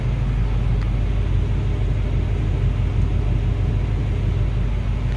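A 1951 Chevrolet 3100 pickup street rod with newer exhaust idles nearby, a steady, deep engine rumble, loud and constant throughout with no change in pitch.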